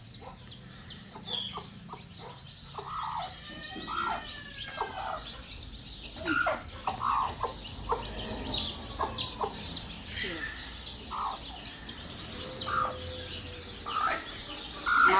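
A desi farmyard hen clucks among her newly hatched chicks, with thin high peeps and short clucks scattered throughout at moderate loudness, while people talk nearby.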